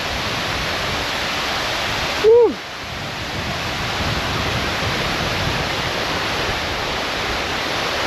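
Steady broadband roar of Bisibis Falls, a waterfall in Mauban, Quezon, filling the whole stretch with a constant rushing wash, briefly interrupted by a short whistle-like tone near the start.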